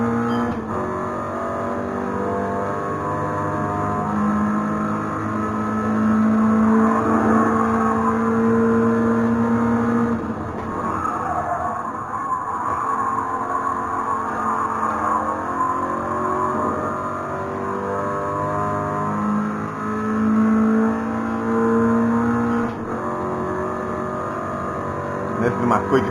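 Toyota GR86 engine in a racing simulator on the Nürburgring, a steady, droning engine tone rising and falling with throttle and gear changes throughout. Someone talks over it.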